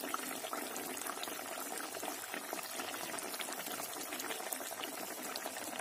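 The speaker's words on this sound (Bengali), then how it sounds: "দেখো ঝোলটা কিন্তু অনেকটাই মরে এসছে, মাছটাও খুব সুন্দরভাবে ফুটছে" Fish curry bubbling in a pan, a faint, steady simmer with soft continuous bubbling and gurgling, no talk over it.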